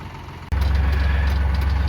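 A tractor with a front bucket loader idles on a work site: a steady, loud, low diesel rumble that cuts in abruptly after a brief break and holds evenly to the end.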